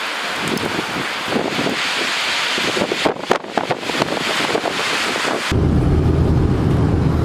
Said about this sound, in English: The winds are gusting up over 50 miles an hour.